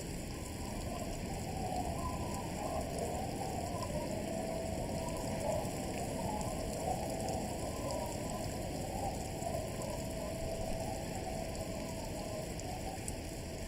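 Steady rain falls for the whole stretch, a dense, even patter with a soft watery hiss running underneath, close and unbroken and without voices.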